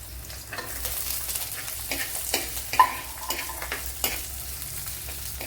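Shallots drop into hot oil with garlic for a Kerala-style sardine curry, setting off a continuous crackling sizzle while a spoon scrapes and taps the pan now and then, with no voices.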